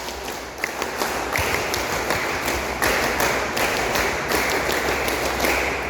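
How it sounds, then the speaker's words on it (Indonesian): A hall full of participants at the closing of a scout leader course at a university in Bekasi, Indonesia, claps steadily. Crisp, dense hand claps fill about six seconds at an even, fairly loud level. "2 kali tepuk pramuka."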